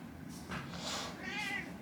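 A pet cat meows two or three times in a quiet room, soft drawn-out calls with short gaps between them, heard alone with no voices.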